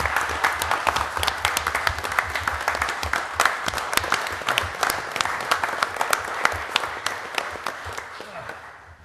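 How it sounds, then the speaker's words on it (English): An audience at a public meeting applauds guests standing to be recognized; sustained clapping from many people runs evenly for several seconds at close range before thinning slightly toward the end. "So give these folks a round of applause."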